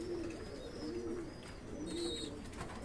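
Pigeon cooing in a repeated low, rolling pattern, three soft coos spaced about a second apart, with faint higher chirps from other birds in the background.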